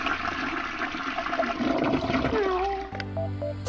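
Toilet flush indoors at home, a loud rushing gush of water that swirls and drains away, followed by the tank refilling with a thinner trickle; a voice is faintly present.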